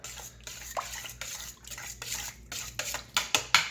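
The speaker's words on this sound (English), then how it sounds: "We're going to mix this together." Paprika being mixed into goulash ingredients in a bowl, close scraping and clinking strokes of a utensil against the bowl that grow sharper and louder toward the end.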